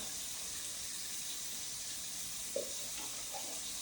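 Tap water runs steadily into an empty tomato can at a kitchen sink during cooking, a soft, even hiss heard at low level with no talk.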